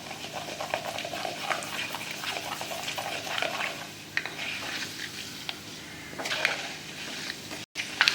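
Mustard, fenugreek and cumin seeds spluttering in hot oil while a Tamil curry leaf kuzhambu is made, steady close crackle and sizzle with scattered pops and a faint stir.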